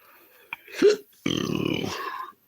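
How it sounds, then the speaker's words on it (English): A single loud burp from a person, a short gulp followed by a longer rumbling belch of about a second, close to the microphone in an otherwise quiet room. "I think that was just a regular burp."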